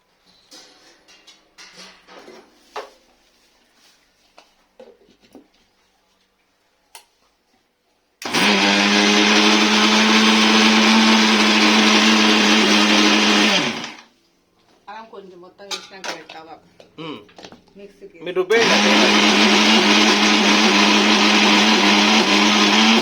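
A mixer grinder blending leftover cooked rice roars loudly in two long bursts of about six and five seconds, with quieter kitchen clatter, handling noises and scattered voices in the gaps.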